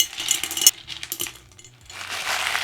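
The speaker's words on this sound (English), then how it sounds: "I'm gonna fill this like a third of the way up, a fourth of the way up with LECA" LECA clay pebbles pour into a glass vase in a bright, rattling clatter of many small hard clinks, coming in uneven bursts and then a softer, sustained trickle.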